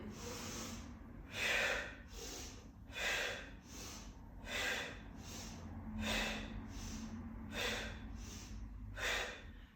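Yoga breathing with air pushed out through pursed lips, a series of soft, breathy puffs in a steady rhythm over a low background hum, close and quiet, with no talk.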